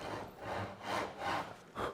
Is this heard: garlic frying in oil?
no